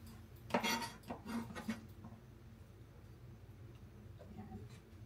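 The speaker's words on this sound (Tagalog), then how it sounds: "kasi hiwain na natin yung karne." A knife slices meat for sisig, producing a short burst of faint scraping and tapping cuts against a board. Quiet, low room noise follows.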